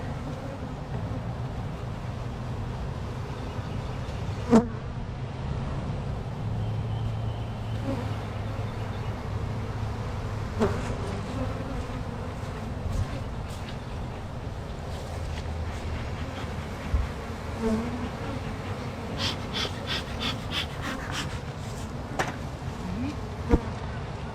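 Honey bees hum in a steady, close drone around an open hive, a low continuous buzz with occasional soft clicks and knocks from handling the hive.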